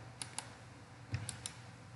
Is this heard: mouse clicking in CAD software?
yes